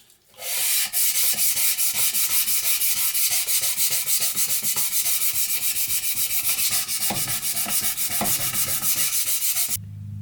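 Steady, close hand sanding of a forged steel knife blade being polished to bring out its hamon, a continuous dense rasping scrub with fine rhythmic strokes that runs for nearly ten seconds and then stops abruptly.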